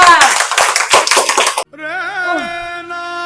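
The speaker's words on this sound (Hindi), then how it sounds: "सौरभ प्रधान जी के लिए तालियां।" A short burst of applause from a small group cheering a newly elected village head, dense clapping for about a second and a half before it cuts off abruptly into a sustained tonal sound.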